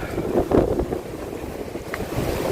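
Wind blows steadily across the microphone, a low rumbling gust with no other clear sounds.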